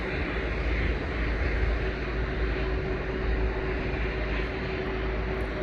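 Broad, steady roar of jet airliners landing at an airport, including a KLM plane, heard as continuous engine rumble at moderate distance with no talking.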